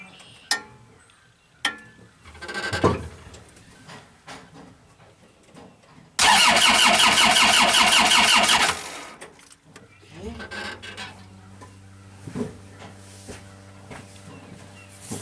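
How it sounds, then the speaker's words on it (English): A GEHL skid loader diesel engine cranks without catching, a loud steady mechanical whir of the starter lasting a couple of seconds, set between clicks, knocks and quieter handling noises. "And now we can crank it."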